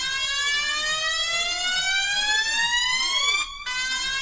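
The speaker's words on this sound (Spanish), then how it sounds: "Esto que suena como a sirena mariconada, más o menos es que va un mensaje." A civil protection warning siren sounds a steady, loud rising-and-falling tone with many harmonics, interrupted by a brief burst of noise near the end.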